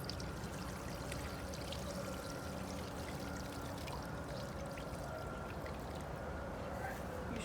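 Two gallons of vinegar pour steadily over items set to soak, a continuous close splashing wash that runs without a break from start to finish.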